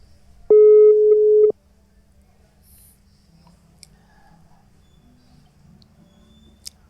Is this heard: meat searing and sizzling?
no